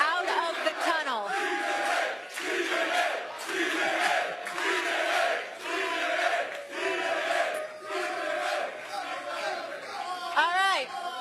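Studio audience crowd at a live sports talk show, a dense, loud roar of yelling and chatter that swells and falls steadily throughout, with voices shouting over the crowd.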